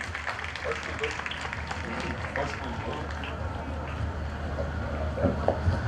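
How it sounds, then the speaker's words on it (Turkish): Audience applause welcoming a chef onto a cooking stage in Adana, a dense, steady wash of clapping mixed with crowd noise that holds for about six seconds. "Alkışlarınız Azer Amani için hoş geldiniz şefim"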